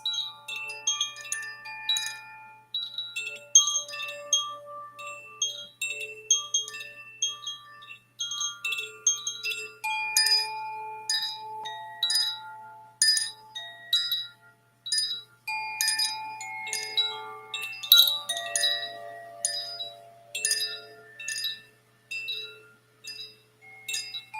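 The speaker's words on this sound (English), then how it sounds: "Can you hear the chimes?" Metal chimes ringing in a steady shimmer of bright, overlapping tones, struck repeatedly and left to decay, with no talking.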